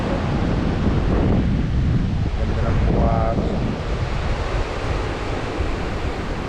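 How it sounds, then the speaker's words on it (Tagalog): Strong wind gusts across a beach at Mika's Resort in Samar, a constant loud roar mixed with surf, while a person speaks briefly partway through. "Ang lakas, ang ganda ng lakas ng hangin."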